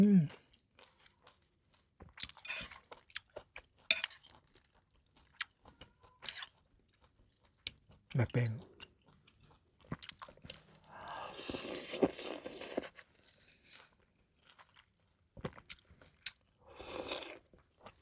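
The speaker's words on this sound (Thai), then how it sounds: "ลงมือกินครับ" Close chewing and crunching of steamed rice with sweet leaf curry cooked with red ant eggs, soft bites and mouth sounds spread in bursts with pauses and brief murmured speech.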